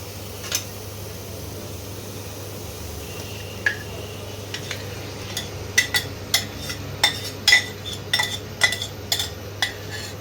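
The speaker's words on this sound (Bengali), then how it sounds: "এবারে এই পেঁয়াজের মধ্যে মাংসটা দিয়ে দেবো।" Chicken meat, marinated with black pepper, tossed into onions in a pan and stirred, giving a steady run of metal spoon scrapes and clinks against the pan that grows busier, with no talking.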